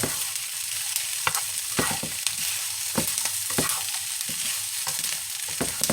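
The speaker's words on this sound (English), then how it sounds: "when you're sauteing some of your vegetarian meat in the pan, you might want to think about using that vegan plant-based butter" Vegan plant-based meat sautés in a pan with plant-based butter, a soft continuous sizzle broken by repeated sharp scrapes and clicks of stirring, close up and with no talking.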